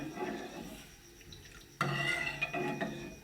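Metal utensil scraping and clinking against a pot of heating water with soaked halim seeds, with a sharp clatter partway through and continued stirring noises close by.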